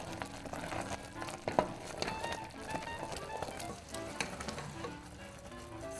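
Fudge mixture heats in a pot with a steady, close sizzling and bubbling, broken by a few light stirring taps, and no voices.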